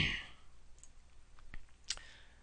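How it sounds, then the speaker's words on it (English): Computer mouse clicks while stepping through a software installer's default options: a few faint, sharp taps spaced irregularly in a quiet room. "I'm just clicking the defaults."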